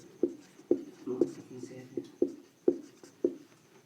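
Pen strokes writing an equation on paper during a maths lesson, about eight short rhythmic scratches in quick succession, close and fairly faint.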